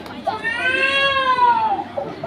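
A voice imitates cats fighting with a single rising and falling caterwaul, a drawn-out yowling wail lasting about two seconds, loud and close.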